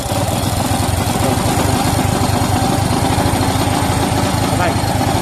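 Bajaj CT125 motorcycle engine running loud and close with a dense, steady throb throughout, while someone talks over it.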